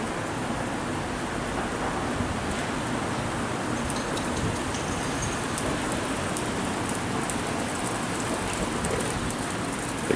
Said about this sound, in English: You can hear the ice, the ice pelting, everything, the little dings.